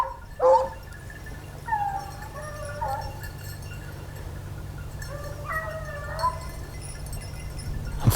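Hunting hounds baying while tracking a hare in the countryside, a few distant, drawn-out howling cries in separate bursts over a quiet outdoor background.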